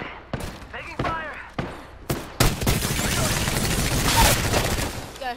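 Rapid gunfire from an Apex Legends match, with several separate shots early on giving way to a sustained, loud fusillade of automatic fire, while players talk over it.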